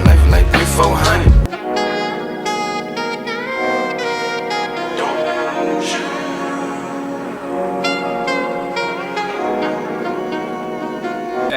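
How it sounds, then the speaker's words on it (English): A saxophone line plays within a rap album track, with melodic horn phrases over a steady beat and bass, loud and continuous after a brief burst at the start. "That's sax, yeah?"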